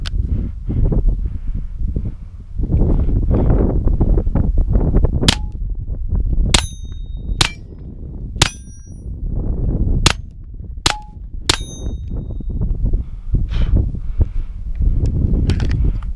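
FN Five-seveN pistol fitted with a Gemtech suppressor fires about seven muffled shots at irregular intervals, each a sharp crack with a ringing metallic ping, over a steady low background rumble.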